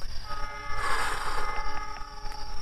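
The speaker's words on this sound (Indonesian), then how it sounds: "Itu terdengar suara kereta api kan guys, karena ini memang nggak jauh dari rel kereta api ya." Train passing on a nearby railway track, a sustained horn tone swelling and fading over about two seconds above low rumbling rail noise, moderately loud and not far off.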